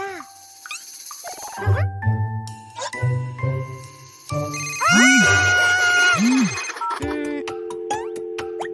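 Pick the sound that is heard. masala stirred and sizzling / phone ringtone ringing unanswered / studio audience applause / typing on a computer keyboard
phone ringtone ringing unanswered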